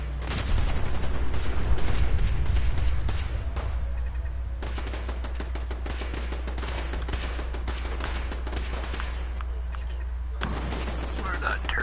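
Turret gunfire in Fallout 4, dense sustained bursts of rapid automatic shots, loud and close, with heavy low rumble and a voice speaking over it.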